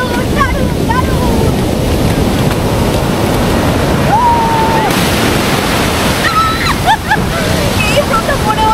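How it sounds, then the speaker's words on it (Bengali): Sea waves crash and wash continuously along Puri beach in a loud, wind-buffeted roar, with excited voices and shouts from people in the surf over the surging water. "এই প্রথম মনে হলো একটা পারফেক্ট ঢেউ খেলাম।"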